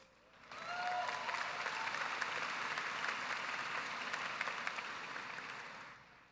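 Sustained, even applause from a high school graduation audience swells in quickly, holds steady for several seconds, then fades away, with no speech over it.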